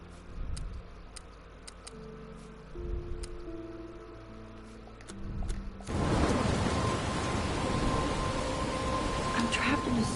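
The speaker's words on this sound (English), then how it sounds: "I'm trapped in a storm?" Rain and storm noise from the video game Life is Strange, a dense broadband downpour that swells in loudly partway through after quieter background music, with faint crackles suggesting thunder.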